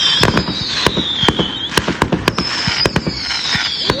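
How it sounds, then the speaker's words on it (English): Fireworks burst in rapid succession at an outdoor display, sharp loud bangs at an irregular rhythm over a steady background of crackle and whistling trails. "when the fireworks start firing, that's when we start running."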